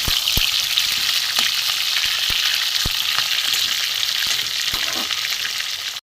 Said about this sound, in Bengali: একটু লাল করেই ভাজবো